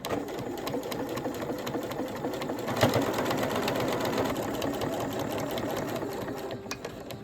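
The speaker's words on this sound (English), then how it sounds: "I am going to attach my binding completely with my sewing machine" A sewing machine stitches binding onto a quilted placemat continuously at a steady fast rhythm, its rapid mechanical clatter close and even throughout, with no voices.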